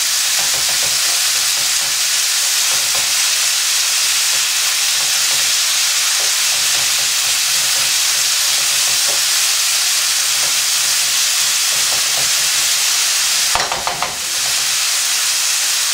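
Paella Valenciana in a pan sizzles and hisses steadily and close as the remaining liquid boils off, with a few faint stirring scrapes and no talking.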